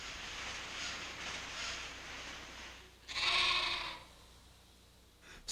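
A sheep bleats once, loud and fairly close, on a Scottish grazing ground, standing out against a steady wash of outdoor background noise, with a faint second call near the end.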